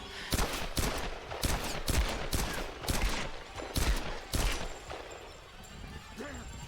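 Gunfire in Tomb Raider (2013, Definitive Edition): a series of sharp, loud shots in irregular bursts, about a dozen cracks over several seconds, then tapering off, with occasional voices under the shooting.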